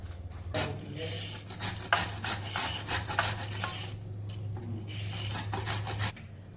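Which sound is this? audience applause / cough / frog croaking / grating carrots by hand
grating carrots by hand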